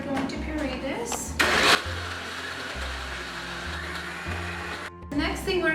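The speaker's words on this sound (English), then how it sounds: "I can get my blender going, and we're going to puree this" A blender purees saag greens with a little water, its motor whirring steadily in close, loud bursts that dip and restart several times, with a brief louder surge near the start.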